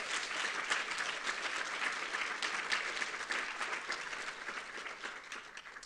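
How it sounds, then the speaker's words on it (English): Conference attendees at a Code4Lib library technology gathering give their sponsors a big round of applause. Dense, even clapping fills the room for several seconds without a break, heard at a distance and fairly soft. "Give a big round of applause to our sponsors."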